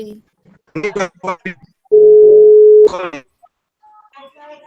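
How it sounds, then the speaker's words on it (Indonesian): An incoming video call ring on a phone sounds as one steady electronic tone lasting about a second, sitting between stretches of nearby conversation, with more people talking both before and after it. "Siapa video call ini?"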